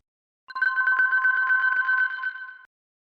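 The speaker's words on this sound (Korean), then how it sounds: "그러나 바로 그때 상황을 더 복잡하게 만드는 전화가 울렸습니다." A telephone rings in one electronic trill about two seconds long, with a bright buzzing tone that starts sharply and stops sharply in otherwise silent surroundings. No voices are heard.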